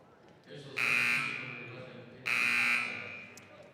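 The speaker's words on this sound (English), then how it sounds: "Double buzzer" A loud electronic buzzer sounds twice in a high school girls basketball game gym, two long harsh blasts about a second and a half apart, each fading out over the arena's background noise.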